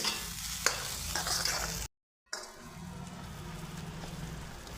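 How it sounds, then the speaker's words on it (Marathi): Paneer lababdar gravy fries in a pan with a steady close sizzle and scraping stirs, broken by a short silent gap before the sizzling resumes more softly. "ग्रेव्हीला एक पाच मिनटं आपण भाजायचं आहे"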